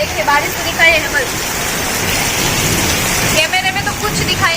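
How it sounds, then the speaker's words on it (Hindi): Heavy rain pours down in a steady broadband roar during a thunderstorm, with a voice talking over it; no distinct thunder claps stand out. "एकदम बिजली कड़क रही है और बहुत ज्यादा ही तेज बारिश स्टार्ट हो गई है।"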